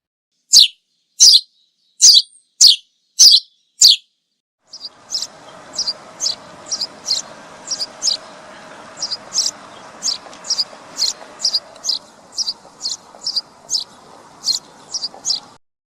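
Sparrow chirps ring out in a rapid series of sharp, bright tweets, first loud and isolated, then a quicker run of fainter chirps over a soft background hum.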